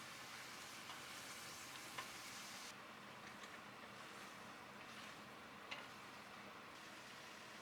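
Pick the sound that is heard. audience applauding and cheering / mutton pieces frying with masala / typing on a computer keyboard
mutton pieces frying with masala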